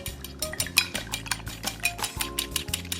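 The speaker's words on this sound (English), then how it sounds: "I'm just going to use this whisk to combine the flour and salt and pepper" A metal whisk stirring flour, salt and pepper in a bowl, quick rhythmic scraping and clinking strokes close up, steady and without talk.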